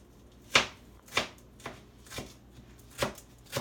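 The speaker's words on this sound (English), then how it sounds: "I'm going to chop some shadow benny." A knife chops shadow benny (culantro) on a cutting board, six distinct crisp thuds at an uneven pace, close and clear with quiet gaps between and no talking.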